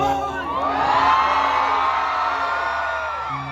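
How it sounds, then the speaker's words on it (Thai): A big crowd at a concert at SEE U FEST yells at full voice on cue, a dense, sustained roar of shouting and whooping that swells and holds for several seconds. "ไหนลองตะโกนแบบสุดเสียงหนึ่งครั้งให้ฟังนะครับ"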